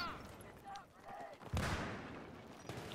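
Gunfire from the video game Battlefield 3, with a single loud, sharp burst midway through a short stretch of in-game noise.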